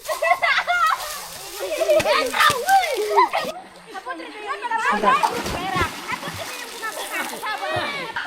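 Children play and splash in a river after school, with water splattering and sloshing under constant excited chatter and shouts from several kids nearby.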